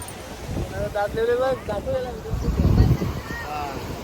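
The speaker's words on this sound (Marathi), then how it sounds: "वारा मस्त आहे आता" Wind blows at the beach near Mandwa jetty in Alibaug, a steady rushing buffet on the microphone throughout, while people talk over it.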